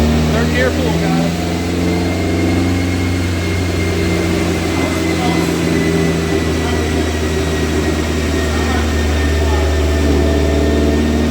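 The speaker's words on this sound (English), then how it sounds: "Third gear pull, guys." A Toyota Celica ST204 with a high-mileage 5SFE engine and an AMR500 turbo holds a loud, steady engine drone throughout a third-gear dyno pull, with rising whine harmonics and voices underneath.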